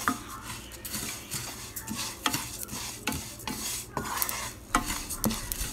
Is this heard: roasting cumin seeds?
yes